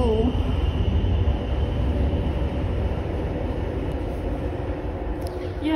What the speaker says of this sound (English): Train. Look at it move.